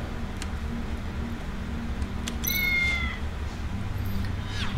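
Cat meowing in the video game Tales of the Neon Sea: a single clear, fairly close meow over a low steady hum, followed by faint higher mewing sounds, with no talking.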